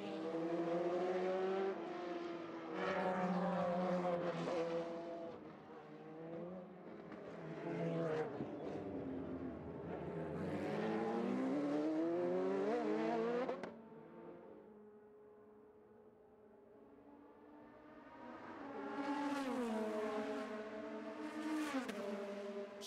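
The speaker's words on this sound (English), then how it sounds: "See Esteban Guerrieri slowing on the course in that number 7 machine, bringing out the full course caution with practice underway here on the streets of Long Beach." Open-wheel race cars lap the Long Beach street circuit during practice under a full course caution. Engines rev and sweep up and down in pitch as cars pass, loud at the start and end with a quieter stretch in between.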